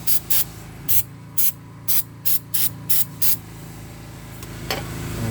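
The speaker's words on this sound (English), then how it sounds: "Alright, I found me a can of brake clean." A can of brake cleaner sprays onto the brakes of a 2016 Honda Civic EX in about nine short, sharp hissing bursts, close and loud, followed by quieter mechanical handling.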